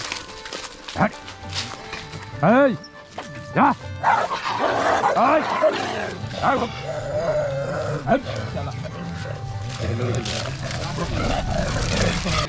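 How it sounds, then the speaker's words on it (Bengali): Two village dogs fight with sharp repeated barks, snarling growls and whimpering yelps that rise and fall close by. Steady background noise and some voices run underneath. "অন্য একটি কুকুর এসে মারামারি লেগে গেছে"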